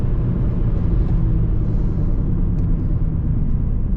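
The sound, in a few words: Infiniti G37 engine revving during paddle-shift upshift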